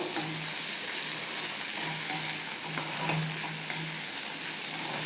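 Okra fry mixed with roasted gram flour is stirred in a hot pan, a continuous close sizzle with repeated scraping strokes of a spoon at an uneven rhythm.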